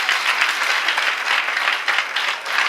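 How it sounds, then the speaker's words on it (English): Steady applause from an audience at an International Day of the Girl Child event in rural Montserrado, Liberia, a dense wash of many hands clapping without pause, fairly loud and close. "Let's clap for them."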